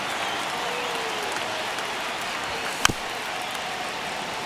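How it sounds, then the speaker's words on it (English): Steady applause and crowd noise from a baseball stadium in MLB The Show 25, a dense continuous wash of clapping with a single sharp crack partway through, no voices over it. "Crowd locked in right now."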